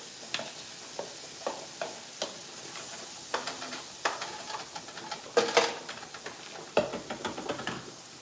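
Mushrooms, garlic, red peppers and onions sauté in a pan, a soft sizzle under repeated sharp knocks and scrapes of a utensil stirring against the pan, close and fairly quiet.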